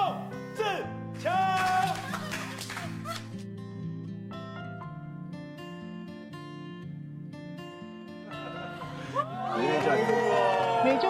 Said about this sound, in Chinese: 热烈的掌声欢迎凯旋归国的宋智强